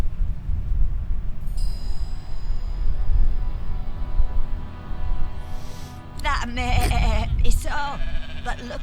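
Sheep bleating in the fantasy role-playing game Divinity: Original Sin 2, several wavering bleats clustered near the end over a steady low background rumble, fairly close and moderately loud.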